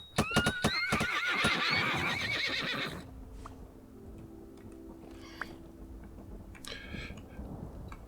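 A donkey in the video game Vintage Story lets out a loud, rapid braying whinny for about three seconds, followed by quieter scattered clops and ticks.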